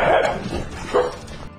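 A bulldog gives two short, fairly loud barks about a second apart, close by and without talk.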